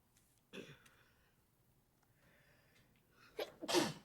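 A single close, forceful sneeze bursts out after a short breathy intake, preceded by a brief throat sound in an otherwise quiet board meeting room.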